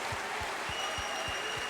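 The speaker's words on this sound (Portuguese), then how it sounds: "Vamos dar mais um lindo aplauso a Deus." A church congregation applauding at a Sunday service: a steady, dense wash of clapping that fills the whole stretch at moderate level, with a few low thumps underneath and no clear talk.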